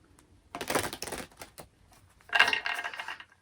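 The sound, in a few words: shuffling tarot cards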